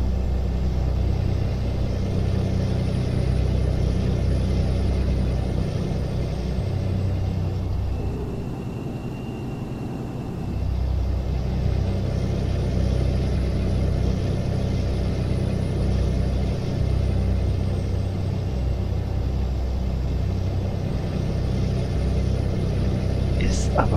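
A truck in Euro Truck Simulator 2 rumbles along with a steady low engine drone throughout, dipping briefly midway, and a faint tonal whine rises and falls above it.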